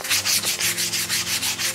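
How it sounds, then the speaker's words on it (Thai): A shaver buzzes and rasps in short rhythmic strokes, with about eight loud, close passes and no voices. "เสียงกันหนวด"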